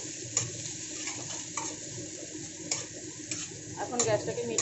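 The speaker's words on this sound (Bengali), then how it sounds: "পেঁয়াজ, কারি পাতা, কাঁচা লঙ্কা আর সর্ষে। এটাকেও বেশ সুন্দর করে আমি ভেজে নেব।" Onion, curry leaves, green chili and mustard seeds frying in a pan on low gas for doi bhindi, with a soft steady sizzle and repeated light clinks of a spatula stirring against the pan.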